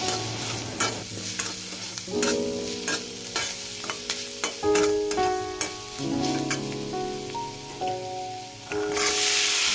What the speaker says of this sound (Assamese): অকণমান পিঁয়াজ আৰু জলকীয়াখিনি ভাজি লৈ হালধি গুড়ি, ধনিয়া গুড়ি, জিৰা গুড়ি আৰু নিমখ অকণ দি এনেকৈ ভাজি ল'লোঁ